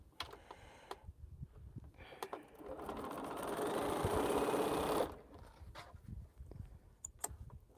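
Sewing machine stitching quilt fabric, a steady mechanical whir building for about two seconds in the middle before stopping, with light handling clicks and taps before and after, close and fairly quiet.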